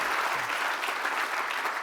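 Conference audience at the SICW Summit applauding Minister Gobind, a continuous, fairly loud wash of many hands clapping at once, steady throughout.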